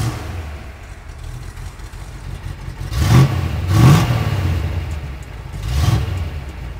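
A 1969 Plymouth Road Runner V8 muscle car engine revs up in three loud surges over a steady low idle rumble, each swell rising and falling.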